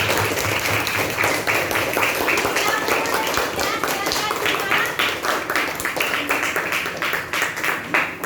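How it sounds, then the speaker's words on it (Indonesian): A class of sixth-grade primary school children gives loud, steady applause to a student group that has finished presenting, with dense clapping running the whole time and voices mixed in. "Kasih aplaus dengan kelompok 1 sudah selesai kelompok."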